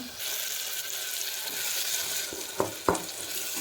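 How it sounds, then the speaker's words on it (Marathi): Chicken frying with a paste of ginger, garlic, coriander and mint, a continuous close sizzle with two distinct scraping clacks of a spoon against the pan near the end, no voices. "याला आपण चांगलं फ्राय करून घ्यायचं"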